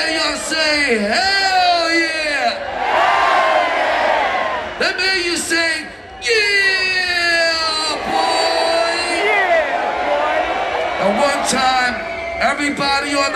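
A large concert crowd at a live hip-hop show shouts back in loud, massed call-and-response bursts, with roaring and whooping swelling between a performer's amplified calls.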